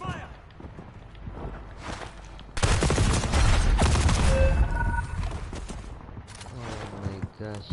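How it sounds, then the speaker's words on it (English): Burst of gunfire in a Call of Duty Warzone firefight, a loud dense stretch of rapid shots following quieter moments, with game voice lines around it. "Taking fire!"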